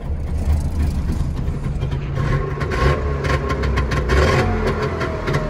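A cold 1990 Trabant 601 with a 600cc two-cylinder two-stroke engine idles steadily while warming up, a continuous close, rough buzzing drone with no voices.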